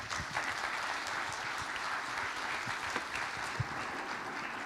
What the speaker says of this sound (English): Another big round of applause for Chair Representative Mark Maloney